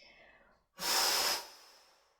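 A single forceful breath during an exercise workout, a loud airy rush lasting about half a second that fades into a softer hiss, close to the microphone with no other sounds around it.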